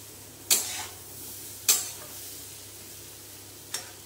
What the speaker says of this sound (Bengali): এটাকে দিয়ে ভালো করে একটুখানি কড়াইশুঁটি আর আলুটাকে দিয়ে একটু কষিয়ে নেব